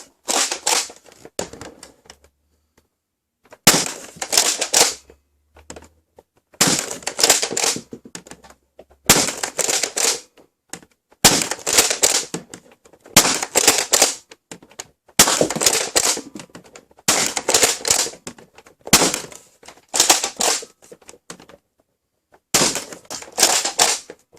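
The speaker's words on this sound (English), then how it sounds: "I'm gonna shoot a few original Nerf rival round, a few dart zone, and a few X round through it" A spring-upgraded Nerf Rival Helix blaster fires Nerf Rival, Dart Zone and X rounds in about ten separate bursts of sharp, rapid clacks, each followed by a short silence.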